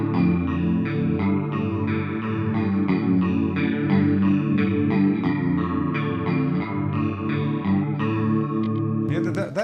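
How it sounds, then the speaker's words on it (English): An electric guitar through a Whammy pedal plays a shimmering, grungy chorus effect, with sustained chords and a few note changes that continue steadily for about ten seconds before a brief noisy burst at the end. "That is actually a great chorus sound"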